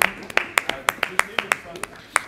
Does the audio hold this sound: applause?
yes